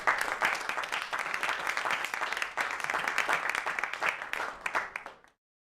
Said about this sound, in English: Please give everyone a clap for Omri.